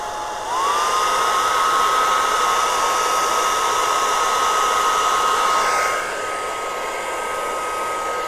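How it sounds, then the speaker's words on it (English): A hair dryer is used to spread poured paint for art; it runs alone with a steady, loud whine and airy rush, and its pitch steps up shortly after starting. "I no longer use my hairdryer for any hair purposes, but I use it for art."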